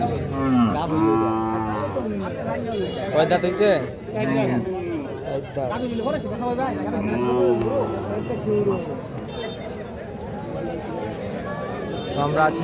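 Cattle moo repeatedly at a large weekly Thursday cattle market in Dabnia, loud and close, mixed with the chatter of many people talking around the animals throughout.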